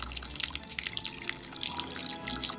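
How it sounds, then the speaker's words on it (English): Freshly boiled water poured over tea holders, a continuous light splashing and trickling with scattered drips, fairly quiet and close, with no talking. "I boiled some water, and I'm going to pour that over my tea holders"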